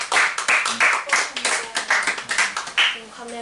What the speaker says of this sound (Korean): 다시 한번 축복과 환영을 박수하겠습니다.